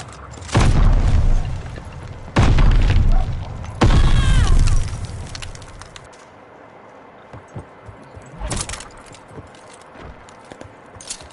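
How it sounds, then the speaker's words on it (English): Call of Duty gameplay delivers several heavy booming blasts in quick succession, with a grenade explosion among them, each loud and close, then a quieter stretch with lighter thumps and faint game clatter. "Incoming grenade!"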